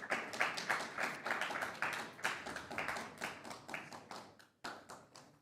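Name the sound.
Foley artists in the audience clapping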